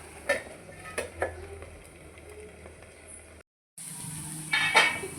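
Moong dal punugulu sizzle steadily in a pan of oil while being turned, with a few sharp clinks of a utensil against the pan, a brief drop-out midway, then louder frying returns.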